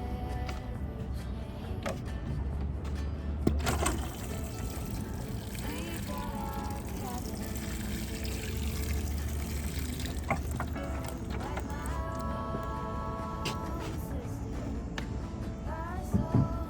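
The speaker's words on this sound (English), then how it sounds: "So now I'm gonna water it." Water running and splashing over newly sown seeds in a garden bed, a steady close wash of sound that continues throughout.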